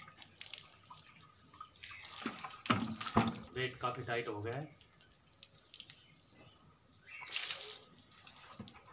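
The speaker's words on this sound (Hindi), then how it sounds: "अब इसमें मैं गर्म पानी डाल देता हूँ" Hot water is poured into a plastic container used as a mould for a homemade dumbbell, with intermittent splashing and trickling that is partly masked by someone speaking, then a short burst of pouring near the end.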